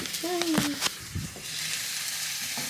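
Food frying in a hot pan at home while breakfast is made, a close hissing sizzle with short crackles that fades after a second or so, with brief speech-like tones mixed in.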